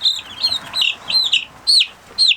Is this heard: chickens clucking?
yes